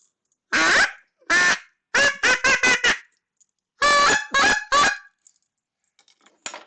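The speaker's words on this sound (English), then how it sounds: "I've got my duck calls" Duck calls blown indoors in a garden-level apartment studio in South Minneapolis, giving loud, nasal honking quacks: two single blasts, then a rapid run of five, a pause, then three more, close and alone.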